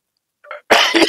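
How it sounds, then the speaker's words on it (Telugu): A man in a village comedy short film coughs after drinking liquor: a small catch in the throat, then a loud, harsh, close cough burst breaking into a second rough hack. "మందు తాగినాక దగ్గు రాకపోతే ఏమత్తదే"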